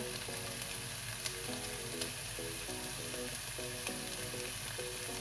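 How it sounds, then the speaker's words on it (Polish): Chicken liver fries in a pan for a liver pâté, with a continuous loud sizzle and crackle and a steady rhythmic scraping pattern repeating throughout, no voices. "smażymy, żeby nam wątróbka nie była surowa"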